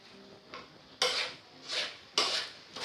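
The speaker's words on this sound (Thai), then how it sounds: "ผัดให้ได้กลิ่นหอมของซีอิ๊วดำเลยนะคะ" A spatula scrapes and tosses pork fried rice with dark soy sauce in a pan, in about four regular, close, gritty strokes with no talking.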